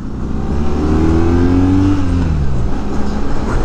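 A 2022 BMW R nineT motorcycle engine revs loudly and close by, its pitch climbing and then dropping back before settling into a steady idle.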